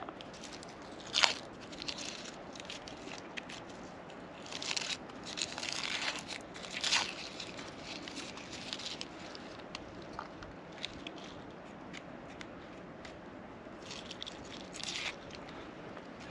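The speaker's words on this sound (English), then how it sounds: "And with the onion, to quick mince it, just cut the face with these little parallel lines very close together." An onion minced with a knife on a cutting board: irregular crisp chopping and crunching taps over several seconds, close and fairly quiet, with a few stronger cuts, no talking.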